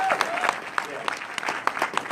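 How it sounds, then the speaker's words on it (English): Audience applause for a panelist at a diversity meeting at a photography convention, a brief burst of clapping from a crowd with individual claps standing out, mixed with voices talking over it. "Give him a big round of applause."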